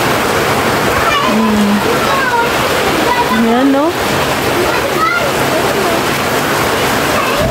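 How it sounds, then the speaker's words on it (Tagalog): Heavy rain pours down in a steady, dense hiss close by, with children's voices calling and chattering over it. "Malakas ang ulan dito."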